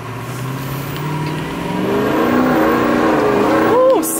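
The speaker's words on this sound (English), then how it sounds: "Drifting the truck now." A Ford F250 pickup with a 6.0 Powerstroke engine revving while drifting on a rough road, the engine note climbing steadily and ending in quick rising and falling rev sweeps, with people talking inside the cab.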